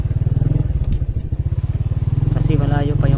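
An XRM125 motorcycle rides off-road along a path through rice fields in Northern Samar, its engine loud and close with a rapid chugging pulse, joined by clattering and a brief voice near the end.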